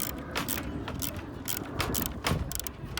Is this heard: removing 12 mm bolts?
yes